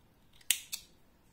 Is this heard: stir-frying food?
no